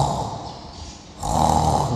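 Harsh, rasping snore-like breathing imitated by a voice, copying the death rattle of a dying person; two rough breaths close to the microphone, the second louder and longer.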